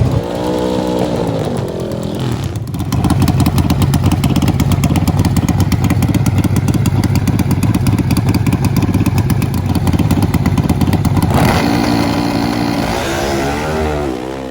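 Gasoline-burning drag motorcycle making a high-speed pass at a racing event: a loud, close engine roar rising sharply then holding a steady high-revving blare for about nine seconds before dropping away.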